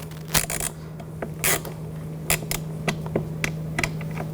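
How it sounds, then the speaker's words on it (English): Small clicks and creaks as a screw is started by hand on a front window motor of a 2000-2006 BMW X5, with scattered sharp taps over a steady low hum, close and quiet. "Now get this screw started."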